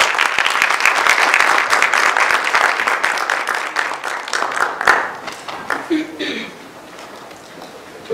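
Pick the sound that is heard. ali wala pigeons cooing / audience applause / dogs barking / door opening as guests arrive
audience applause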